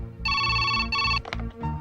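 An electronic phone ringtone chirps in two steady bursts, loud and close, followed by a few quieter electronic beeps.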